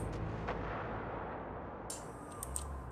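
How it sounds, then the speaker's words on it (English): A rocket blast in the Far Cry 5 shooter, a heavy rumbling explosion washing through the whole stretch with a broad roar that slowly decays, fairly faint and without talk. "I always die to a rocket"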